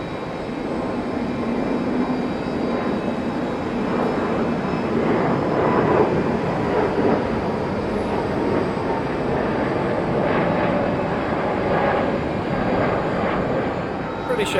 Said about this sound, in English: British Airways Oslo flying on the Airbus A320.